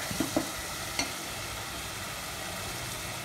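Small onions frying in a pan with a soft, steady sizzle, broken by a few brief utensil clinks and stirring sounds near the start.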